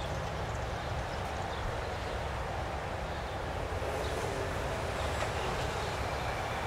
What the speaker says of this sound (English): You hear like buses slowing down. You hear brakes, you hear